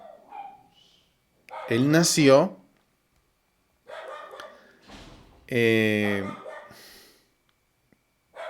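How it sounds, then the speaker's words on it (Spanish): A pet dog barks a couple of times indoors, short loud bursts separated by pauses, with someone talking nearby. "estoy tratando de determinar por qué mi perro está ladrando"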